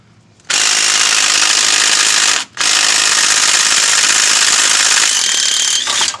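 A DeWalt power tool working on a Chevy truck during lifter repair, a loud, steady high-pitched whirring drone that starts abruptly, drops out briefly once, then carries on and fades at the end, with no talk.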